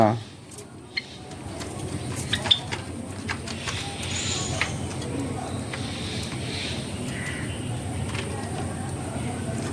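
Pet birds in an indoor aviary coo and chirp in soft, repeated calls under a steady background rustle, with a few sharp clicks and knocks scattered through.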